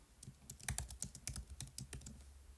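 Keys clatter on a computer keyboard as a teacher edits written feedback, a quick irregular run of close, crisp clicks with brief pauses, no voices.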